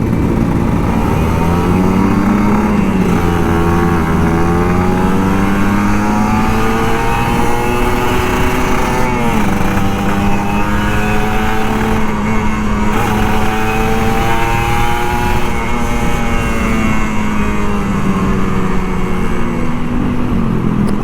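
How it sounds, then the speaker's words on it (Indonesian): Old Kawasaki Ninja RR 150 two-stroke motorcycle being ridden and revved, its high buzzing engine note rising and falling through repeated throttle pulls, loud and close throughout with no talk. "Pagi-pagi tuh nikmat banget ngegas Ninja 2 tak."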